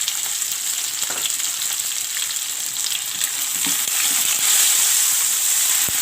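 Tomato masala with turmeric, red chilli and salt frying in a pan, a steady close sizzle and hiss with faint stirring scrapes, growing slightly louder toward the end, no talking.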